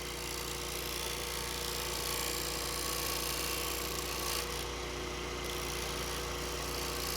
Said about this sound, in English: 320 grit sandpaper.